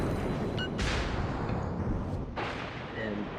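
Warship guns firing armor-piercing shells in World of Warships, loud booming blasts with two big broadband bursts and lingering rumble over a constant low battle din.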